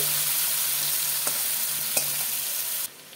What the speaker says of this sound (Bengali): দিয়ে দিলাম কেটে রাখা পেঁয়াজ। লাল লাল করে ভাজবো অল্প।